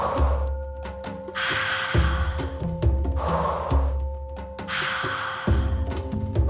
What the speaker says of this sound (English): Deep, full breaths.